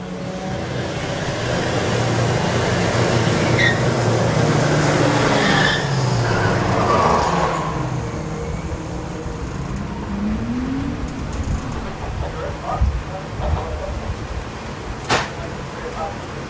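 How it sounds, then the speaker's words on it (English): A purple BMW at a street car event roars past loudly with a sustained engine note and tire noise, then fades into the distance as crowd noise and a commentator's voice carry on. "The purple BMW is going to be coming around in the corner now."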